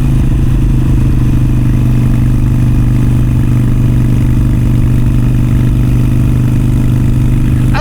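A Harley-Davidson Iron 883 motorcycle cruises Route 66 out of Tucumcari. Its engine gives a loud, close, steady drone with a constant low rumble and no clear revs, and no voices are heard.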